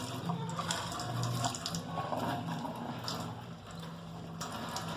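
Water running steadily from a tap to rinse a printmaking plate after an acid bath, a soft continuous splashing flow lasting throughout with no talk.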